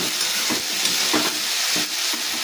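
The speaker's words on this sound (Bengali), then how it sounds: "এবার আমি এটাকে খুব ভালোভাবে কষাবো" Spices sizzle in a hot pan while a utensil scrapes and stirs in a loose rhythm, close and fairly loud, with no talking.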